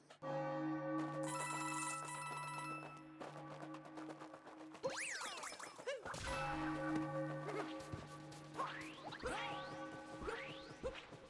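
Bells ringing in Super Mario Odyssey, layered sustained tones and chimes with swooping, gliding game effects and a brief whoosh partway through, moderately loud and continuous.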